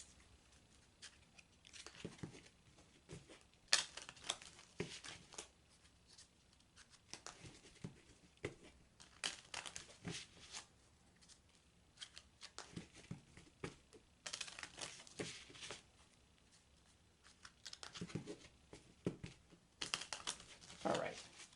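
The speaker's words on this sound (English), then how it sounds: "that's the question I'm focusing on as I shuffle the cards" A deck of tarot cards shuffled by hand at close range, soft repeated riffles and brisk papery flutters in short bursts separated by pauses, faint and unaccompanied.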